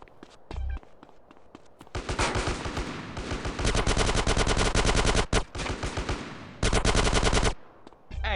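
Automatic gunfire in GTA San Andreas during a gang war, long loud rattling bursts of rapid shots with brief gaps between them, close and dense, with a few scattered single shots around them.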